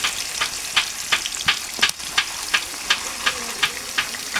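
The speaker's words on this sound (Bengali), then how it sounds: "তেলটা গরম হয়ে গেছে, রেস্টে রাখা মাংসগুলো পিসগুলো তেলের মধ্যে দিয়ে দেব এক এক করে। হালকা আঁচে মাংসগুলো ভেজে নেব।" Chicken pieces frying in hot oil over a low flame, a steady sizzle broken by regular sharp crackles and pops roughly every third of a second, close and fairly loud with no voices.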